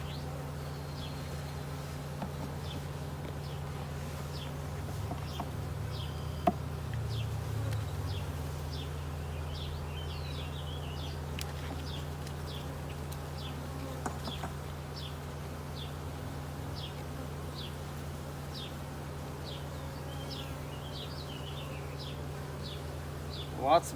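Honey bees buzz at an open beehive during a hive merge, the frames heavy with pollen. A steady, dense low hum holds throughout, close and continuous, with faint scattered ticks and rustles.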